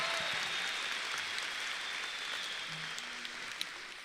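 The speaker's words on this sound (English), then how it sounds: "Parents, let's give them a big round of applause." Steady applause from parents for the Memorial Pathway class of 2022 at a graduation ceremony, a dense even wash of clapping that holds throughout at moderate loudness.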